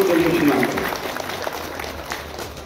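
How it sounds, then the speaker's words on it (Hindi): Audience applause at a Govardhan Puja event held at the Shabari cow shelter in Bhuradbara, a steady broad wash of clapping that fades slightly over a few seconds, with a voice briefly heard over it at the start. "तालियां बजाएं आप, तालियां बिल्कुल कंजूसी ना करें"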